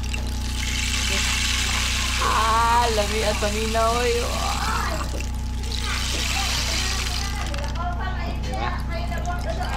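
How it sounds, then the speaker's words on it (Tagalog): A steady rushing of flowing stream water fills the background at a coffee shop, with a constant low hum and someone talking over it. "Agos sa tubig"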